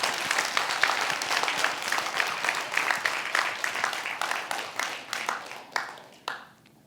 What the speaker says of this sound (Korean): 박수 좀 쳐요, 이럴 때.